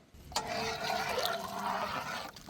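A continuous splashing pour of water goes into a pot of beetroot rasam for about two seconds, close and fairly soft, starting abruptly and stopping cleanly.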